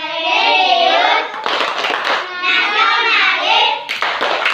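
A group standing together performs the Tepuk PPK, a chanted clapping routine, with loud, steady rhythmic hand claps mixed with voices chanting in unison, close and continuous throughout.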